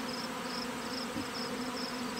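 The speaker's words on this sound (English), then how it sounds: "these bees are going out and they're gathering the syrup" Honey bees buzzing at a hive being fed syrup, a soft steady drone with a higher whine pulsing at regular intervals, faint and uninterrupted.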